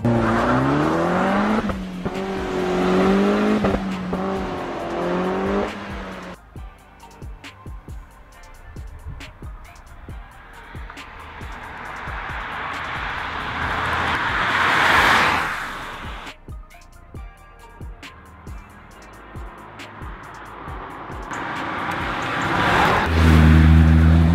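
A sporty, rough-running car engine revs hard and loud, rising and falling in bursts with tire-squeal-like whine, sometimes near and loud, sometimes dropping back, with no talking over it.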